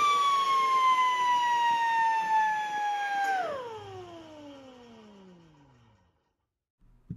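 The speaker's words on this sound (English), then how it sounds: "flip the saw on and off very quickly to see if the blade wobbles" A Grizzly G0771Z 10-inch hybrid table saw motor whines steadily at full speed, then is switched off and spins down, its pitch sliding lower as the blade slows to a stop, followed by silence and a faint click.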